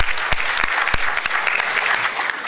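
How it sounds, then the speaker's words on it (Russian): Audience applause for a panel of experts at a live event, dense steady clapping from a crowd with a few sharp louder claps standing out, filling the whole stretch without speech. "Тогда, наверное, аплодисменты нашим экспертам."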